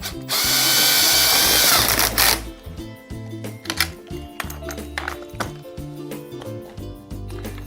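A power drill fitted with a cut-down Allen wrench bit drives bolts into an Adirondack chair, starting with a loud sustained whir for about two seconds, then short bursts and clicks of the tool being handled.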